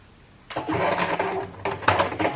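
Domestic sewing machine stitching a quilted fabric section, a steady motorized whirring run that starts after a brief quiet moment, pauses once, then resumes close and fairly loud.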